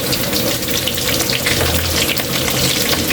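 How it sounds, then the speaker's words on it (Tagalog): Pork frying in hot oil, a loud, dense, continuous sizzle with sharp crackling spatters close up. "Ito yung mahirap talaga kaili pag mga ganito magpa-fry. Tumatalsik-talsik."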